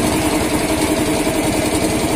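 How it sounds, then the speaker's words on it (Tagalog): Honda Wave Alpha motorcycle engine idling close up, a steady dense low putter with rapid regular firing pulses, loud and alone with no talk. "Pangalawa ngayong umaga ang napaandar natin motor."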